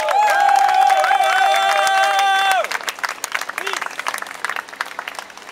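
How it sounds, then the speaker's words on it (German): Crowd applause and cheering at an outdoor peace vigil in Vienna marking its first anniversary: loud, dense clapping with a sustained tone over it for about two and a half seconds, then thinning into scattered claps and murmuring crowd noise. "Bitte einen Applaus für euch selbst."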